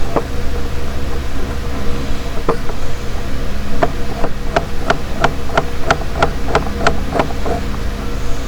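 A knife slicing onions on a cutting board for a Filipino dinakdakan dish, a run of about a dozen crisp, close chopping taps in a quick steady rhythm over a constant background hiss.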